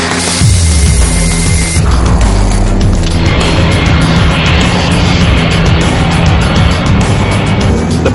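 Loud, roaring jet engines of a Concorde with four Rolls-Royce engines on its takeoff roll down a 4,000-meter runway build into a powerful sustained rumble with a sudden surge after the start, dense and continuous.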